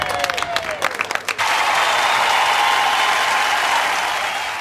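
A large crowd bursts into sustained applause and cheering for a man who has finished a month-long trip around Ireland with a fridge, with scattered claps at first that swell into a steady roar.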